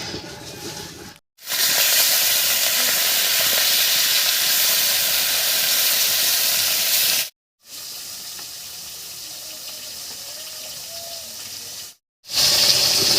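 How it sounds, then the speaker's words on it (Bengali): River fish frying in hot mustard oil in a kadai, village-style cooking: a loud, dense, steady sizzle up close, cut by three brief silent breaks. "তেল গরম হয়ে গেছে এবারে মাছগুলো ভেজে নিচ্ছি"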